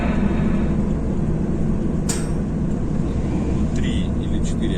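Heavy truck hauling a low-bed trailer over a road section still under construction, its engine and road rumble steady and loud from inside the cab, with someone talking over it.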